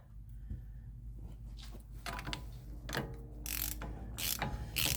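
A hand ratchet tightens the front axle nuts on a 2005 Ram 1500, close rapid pawl clicking in short bursts that grow louder and busier toward the end, with no voices.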